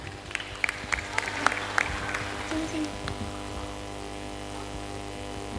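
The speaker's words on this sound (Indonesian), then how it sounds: "kasih tepuk tangan lagi untuk Mbak Nafa Susiati" An audience at a preachers' and karaoke competition claps in a short burst of scattered hand claps, fading after a couple of seconds into a steady background hum.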